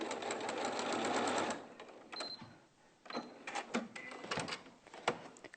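A sewing machine stitches a small unbasted quilt sample with a walking foot in a short, close burst of steady whirring, followed by quieter clicks and knocks of handling the fabric and machine.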